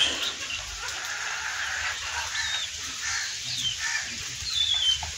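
Free-range farmyard chickens and several roosters, around eight birds, give soft scattered clucks and calls over a steady bed of outdoor ambience, with faint high chirps from other birds in the background.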